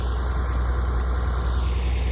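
A tractor fitted with tire chains runs steadily while climbing a driveway, a constant close engine rumble with no pauses or voices.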